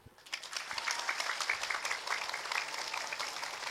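A crowd at an Islamic religious gathering breaks into applause, dense clapping rising quickly and holding steady for several seconds, moderately loud with a faint background voice near the start.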